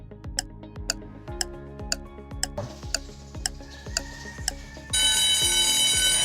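A quiz countdown timer ticks steadily at about one tick per 0.8 seconds, its clicks sharp and evenly spaced, then a loud continuous alarm-like buzz takes over for the final second and a half.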